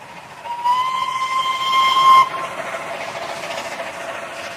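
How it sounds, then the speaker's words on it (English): Steam whistle of a small railway engine, a steady shrill tone with bright harmonics that sounds for about a second and a half, then cuts off, leaving rumbling train noise behind. "Mike's whistle."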